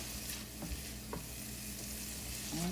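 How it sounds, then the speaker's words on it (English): Green peppers and onions stirred in a hot pan for shrimp etouffee, a steady quiet sizzle with soft scraping strokes of the spoon, close and without talk. "So you just wanna marinate your green peppers and your onions."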